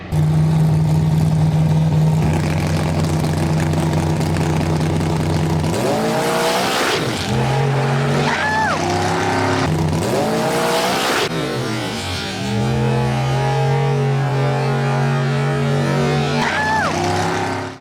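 A turbo LS-swapped Nissan truck races loudly, its engine revving and rising in pitch through several gear changes, with tire squeal and other race cars nearby, close and continuous throughout.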